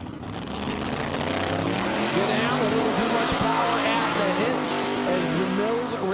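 Drag racing cars at Empire Dragway roar down the strip in a sustained, loud engine blast that holds steady and rises slightly.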